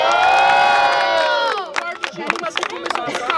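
Crowd at a student rap battle in Brazil roaring and cheering loudly after a round, a dense sustained wall of shouting that breaks into scattered whoops and cries.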